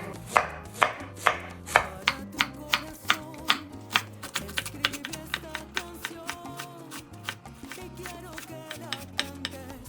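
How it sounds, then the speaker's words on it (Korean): Knife chopping a large carrot on a cutting board, rapid even close taps that slow to heavier strokes then speed up, continuing alone without talk. "당근은 이건 좀 생각보다 크죠? 얘 한 반 개 정도만 쓴다 생각하고 다져 볼게요."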